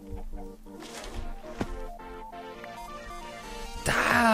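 Chickens cluck in the blocky sandbox game Minecraft, short repeated bird calls over a background of game music, with a louder burst of noise near the end.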